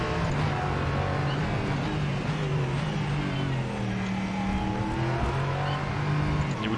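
A Ligier JS P320 LMP3 prototype engine in the rFactor 2 racing sim whines steadily at moderate volume, with the pitch rising and falling as gears shift, and no talk over it.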